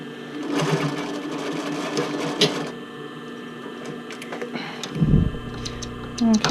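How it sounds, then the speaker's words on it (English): Sewing machine stitching elastic onto the neckline of a lace-up tank top, a close, fast mechanical chatter in bursts with brief pauses and a soft motor hum between runs. "I'm actually going to be sewing an elastic up at the neckline"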